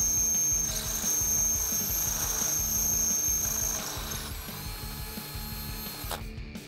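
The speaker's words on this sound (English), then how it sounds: "we can take that 5/16 inch drill bit and drill that out" A power drill bores through a Jeep Wrangler JK door with a 5/16 inch bit, whining steadily and close for several seconds before winding down and stopping.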